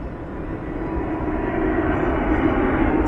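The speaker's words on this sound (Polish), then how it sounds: "Samoloty tylko latają." An airplane passes overhead on a quiet morning in Amsterdam, a steady broad rumbling roar that swells slightly louder over a few seconds with no talk.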